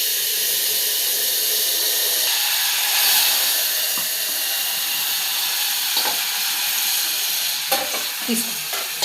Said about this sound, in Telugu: అటు పప్పు మరుగుతుంది, ఇటు ఇది వేగుతూ ఉంది